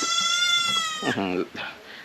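A small goat on a farm lets out a loud, close, drawn-out bleat followed by a shorter wavering cry, with a person talking alongside.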